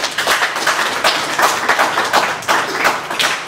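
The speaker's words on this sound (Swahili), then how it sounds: "Kwa hiyo naomba tumpigie makofi kwa ajili hiyo." An audience clapping at a public gathering with a retired member of parliament, brisk, fairly loud applause in a steady rhythmic pattern of claps throughout, with no voices over it.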